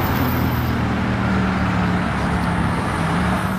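Dense Paris street traffic with a Ferrari pulling away, a steady loud rumble of engines and road noise with a low droning tone underneath, no voices.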